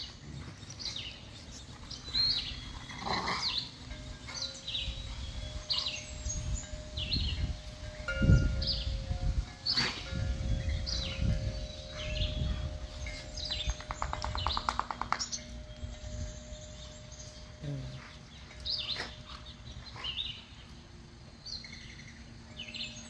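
Small songbirds at a backyard feeder on a morning, repeated short chirps and tweets scattered throughout, with rustling, low thumps and background noise underneath.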